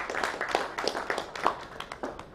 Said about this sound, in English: So please give a big round of applause to Vivek, sir.